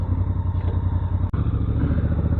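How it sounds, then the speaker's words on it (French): A motorcycle's cooling fan runs on a hot day near Cannes, a steady, close droning whir with a deep low hum beneath it and one brief dip partway through. "La moto, il y a le ventilo qui tourne."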